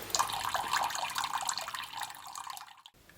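Water being flushed through the water tank of a Monport 80W CO2 laser, a bright splashing, running-tap wash that continues steadily before cutting off abruptly near the end; no one speaks.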